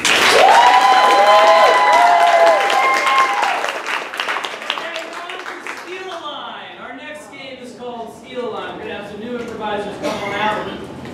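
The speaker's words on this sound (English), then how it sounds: "Another round of applause, please." An audience claps and cheers at a group performance intro, starting loud and full. It fades under a voice that speaks and sings over it, and a second smaller swell of clapping comes near the end.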